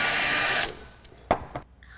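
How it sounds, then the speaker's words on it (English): A power drill whines at high speed drilling pilot holes to fix a frame to a wall, then stops, followed by a few short knocks and clatters nearby. "I'm just drilling my pilot holes so I can secure the frame to the wall."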